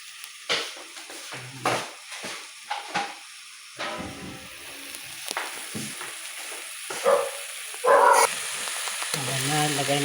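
String beans (sitaw) cooking in a pan, with soft sizzling and intermittent stirring scrapes in irregular bursts, moderately close and fairly quiet.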